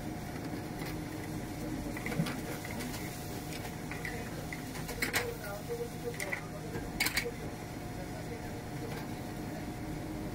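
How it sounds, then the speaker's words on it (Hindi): A Brother HL-L8360CDW color laser printer runs a duplex test print, giving a steady mechanical hum with soft clicks and brief feed whirs scattered throughout, close by and moderately quiet. "brother HL L8360 CDW printer"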